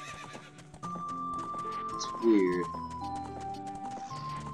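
Horse neighs and hoof clip-clops from The Legend of Zelda: Ocarina of Time, with a rising whinny near the middle over steady game music and a person talking throughout.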